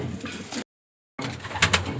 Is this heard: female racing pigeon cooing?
yes